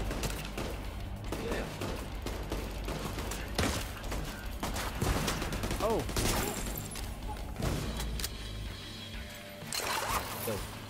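Gunfire in the video game Tom Clancy's The Division 2 rattles in dense, continuous bursts and volleys, mixed with game noise and voices talking over it.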